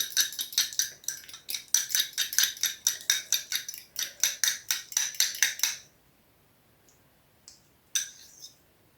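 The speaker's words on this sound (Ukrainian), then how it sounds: "Два яйця я легенько ось так перемішую виделкою." Fork whisking two eggs lightly in a bowl for buckwheat patties, a fast run of crisp clinking strokes for about six seconds, then quiet with a few isolated taps.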